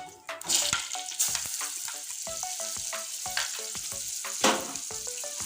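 Chopped onion frying in a pan for a potol and egg dolma: a close, steady crackling sizzle with rapid small pops and a few louder spatters throughout.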